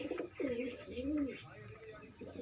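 Pigeons in a loft, including a paired male, give close, repeated soft rolling coos, a few throaty calls rising and falling in quick succession.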